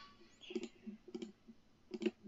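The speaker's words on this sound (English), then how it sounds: "You can hear my mouse clicking, can't you?" Computer mouse clicking during Kerbal Space Program play, three quick clusters of sharp, close clicks spaced about half a second apart, quiet and isolated.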